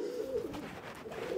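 A single racing pigeon coos close by inside a loft, a low warbling, rolling call lasting about a second and a half, with no one talking over it.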